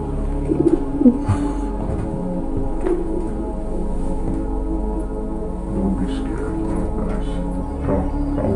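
A voice imitates a pigeon's low, throaty cooing, repeated in soft rolling bursts over a steady hum inside an abandoned apartment, with a few brief higher sounds near the start.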